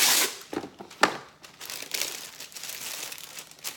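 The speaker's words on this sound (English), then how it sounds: "And one more piece of wax paper." Wax paper crinkles and rustles while chicken nuggets are layered into a storage container, a close, dry, crackly rustle in irregular bursts with a few louder crunches.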